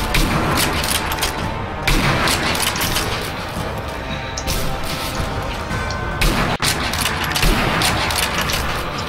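Dense, loud gunfire and crashing impacts from the sniper shooter Sniper Elite V2, with repeated bursts and booms running continuously through the whole stretch.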